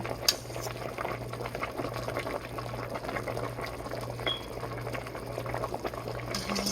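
Zuppa Toscana soup with potatoes bubbling at a steady boil in a pot, a continuous moderate gurgle with a low hum underneath and no talking.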